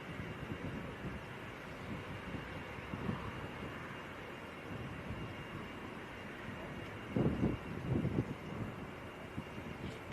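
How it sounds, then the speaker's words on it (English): An Embraer Phenom 300 business jet passes near Leeds Bradford Airport as a faint, distant, steady jet rumble, mixed with outdoor wind noise and a few brief bumps near the microphone. "I think it was a Phenom 300, wasn't it?"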